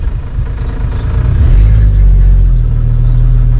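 A 1963 Ford Falcon Futura engine idles with a low rumble, then revs up around mid-clip and settles into a steady, louder drone that holds to the end, heard close with no talking.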